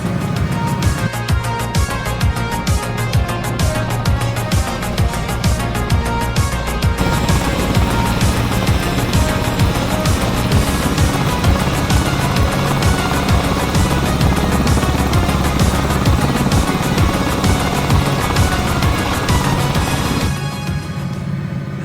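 A Cowansim Bell 222B Airwolf helicopter in a flight simulator game drones with a steady engine and rotor whine and rapid blade chop, continuous and loud, the tone shifting partway through, with no talking.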